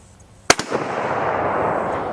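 A single sharp, loud shot from a military surplus rifle fired outdoors, followed by a rolling echo that trails off over a couple of seconds.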